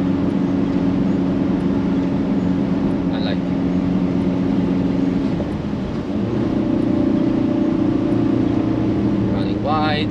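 A Ford Transit van lapping the Nürburgring, its engine droning loud and steady from inside the cabin with a shift in pitch partway through, while someone talks over it.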